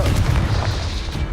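A short, close explosive boom from the Confringo spell in Hogwarts Legacy, a dense low-heavy blast that stays loud and rumbling through its brief duration with no talk over it.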